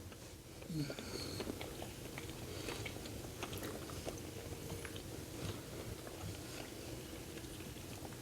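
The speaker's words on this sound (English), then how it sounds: "You saw me chewing into it, right?" Close, quiet biting and chewing of a Paris Baguette rice-dough mochi pastry with a crunchy outside, a chewy inside and sweet bean paste filling. The wet mastication sounds repeat steadily against faint room noise.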